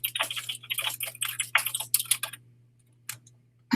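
Computer keyboard keys clatter in quick close bursts over a low steady hum, then trail off into a few isolated taps near the end.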